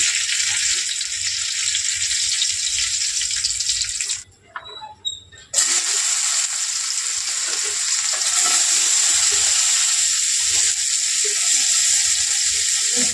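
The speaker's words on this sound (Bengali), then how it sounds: "মাছ ভাজার তেলে এই পেঁয়াজটা দিয়েছি" Steady, loud sizzling of onions frying in oil left from frying fish, briefly interrupted by a few seconds of quieter clinks before the sizzle resumes.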